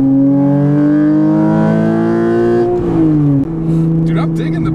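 A widebody Porsche Cayman RSR with cut fenders, quarter panels and bumpers accelerates from inside the cabin, its engine note climbing steadily through a loud, smooth rise before a shift drops the pitch, and a voice enters near the end.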